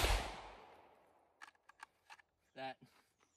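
An SKS rifle fired outdoors at long range gives one loud report that fades over about a second. Light mechanical clicks and a brief voice follow.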